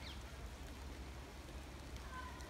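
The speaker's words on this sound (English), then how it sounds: "It's raining now." Steady outdoor rain falls at Kew Gardens, a soft continuous hiss that holds at an even level for a couple of seconds, with faint scattered drip ticks and no one talking.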